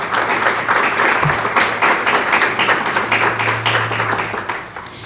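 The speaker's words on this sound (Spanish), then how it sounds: "Démosle un fuerte y caluroso aplauso" An audience at an academic humanities event gives warm applause, a dense and fairly loud wash of clapping that holds steady and then eases slightly at the end, with a low hum underneath.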